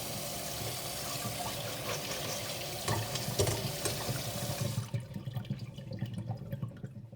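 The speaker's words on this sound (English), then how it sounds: "and then I rinsed them off in cold water." Steady running cold tap water pours and splashes as beans are rinsed in a colander, with light clatter; the flow stops near the end, leaving faint drips.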